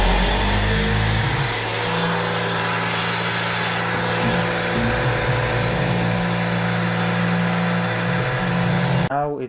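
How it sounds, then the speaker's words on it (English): A Magnum paint sprayer running on clean water through its hose, its motor giving a loud, steady mechanical drone with a humming whine that holds throughout and cuts off abruptly at the end. "Now we have to spray till we see just clean water comes out of the actually hose."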